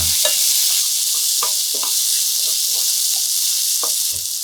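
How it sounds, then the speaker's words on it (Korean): Onion and king oyster mushrooms stir-fry in olive oil in a hot pan, giving a steady close sizzle with scattered scraping stirs throughout and no voices. "달구어지면 양파, 해송이 넣고 달달 볶아서 맛있는 갈색이 돌 때까지"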